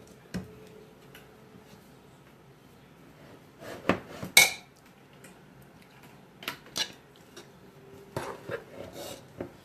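A spoon stirs tapioca and prawn sauté in a pot, with scattered clinks and scraping rubs against the metal, some louder knocks midway and near the end, no talking.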